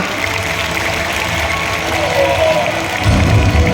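An audience claps for a children's Ramayana play staged at a school event, a steady wash of applause that swells louder toward the end, with a voice talking over it.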